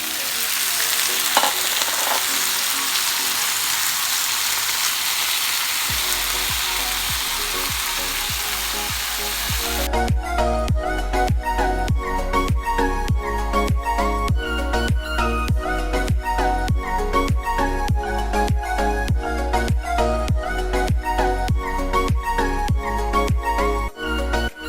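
Chicken frying in a pot for biryani gives a loud, steady sizzle that hisses continuously, then a strong rhythmic beat of repeated thumps joins it about halfway through.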